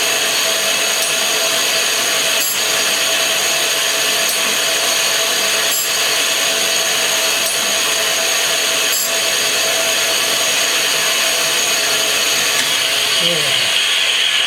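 A tool grinder sharpens saws and cutters with a continuous high-pitched whine and steady hum, broken by a few faint periodic ticks as the saw rotates, running close and loud throughout.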